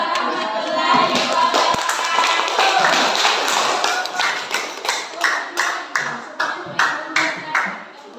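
Clapping from a group after a presentation, starting as a dense patter and settling into a steady run of distinct, fairly close claps toward the end.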